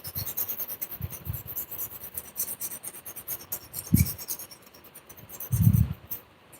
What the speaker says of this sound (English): I'm gonna give it just a little bit of a filing around the base